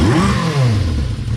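A Honda CB550 motorcycle engine with freshly replaced ignition points and condensers idles on its own, a close, steady, lumpy putter heard only briefly.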